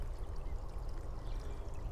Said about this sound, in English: It's the slightest trickle, but it sounds so nice.